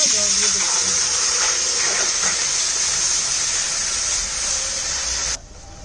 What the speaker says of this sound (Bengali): কাইটা খোলার জন্য জল দিয়ে দিলাম।